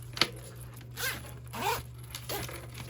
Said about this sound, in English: We are going to open our zipper.